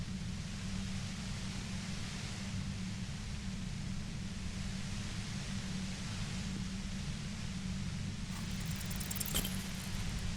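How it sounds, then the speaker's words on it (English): Steady droning hiss of white noise from a compressor in Disco Elysium, constant and enveloping throughout, with a faint brief rustle near the end. "The violet-white noise becomes even more overwhelming closer to the compressor."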